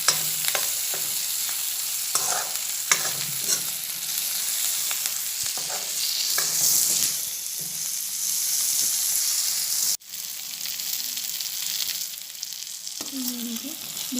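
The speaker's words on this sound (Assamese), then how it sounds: "অলপমান ৰঙা হোৱালৈকে আলুখিনি ভাজি ল'ব।" Cut whole potatoes fry in hot oil in a pan while being stirred, giving a loud, continuous sizzle with repeated scraping strokes and one brief break near the end.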